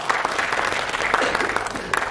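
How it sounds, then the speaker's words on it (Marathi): Audience applause for a team on a Marathi show stage: a steady wash of clapping lasting about two seconds, fairly loud and close, with no speech over it. "या सगळ्या टीमसाठी एकदा जोरदार टाळ्या झाल्या पाहिजे"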